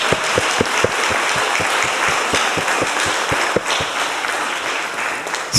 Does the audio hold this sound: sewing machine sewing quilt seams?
no